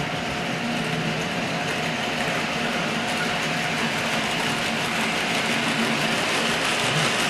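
A model railway locomotive, a British diesel, runs steadily around first radius track, giving a continuous close rolling rumble with a faint electric motor whine and a light rail clatter throughout.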